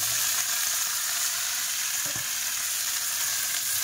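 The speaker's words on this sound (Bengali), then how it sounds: "পেঁয়াজগুলো একদম লাল লাল হয়ে গেছে দেখো। তো এইবারে সবজিতে দেবো" Vegetables sizzle steadily in a pan over browned chopped onions, a constant bright frying hiss. One soft clunk of a utensil comes midway, with no talking.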